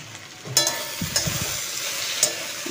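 Tomato frying in oil in a pan before spices go in, a steady soft sizzle with a few sharp clicks of a spatula against the pan and brief stirring scrapes, close and quiet with no voices.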